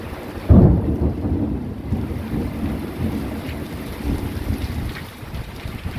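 Thunder rumbles heavily through a violent July 2025 storm, with steady rain and gusting wind buffeting the microphone. A sharp, loud crack comes early, then a long, continuous roar of rain and wind.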